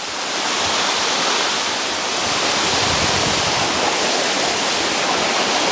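Water pours down a waterfall among ferns, a close, loud and steady rushing hiss that stays constant with no voices.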